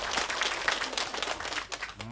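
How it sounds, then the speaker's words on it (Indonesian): Studio audience applause for a mother on an Indonesian television show, a loud, dense patter of many hands clapping that thins toward the end as talking resumes. "tepuk tangan dong buat ibu saya."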